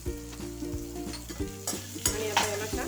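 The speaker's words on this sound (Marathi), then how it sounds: "ही शिजली की आपण याच्यामध्ये चॉप केलेला कांदा टाकूया" Chopped onion frying and being stirred in a pan for a bitter gourd (karela) bhaji, a steady close sizzle with clinks and scrapes of the spoon against the pan, a louder burst of hissing midway.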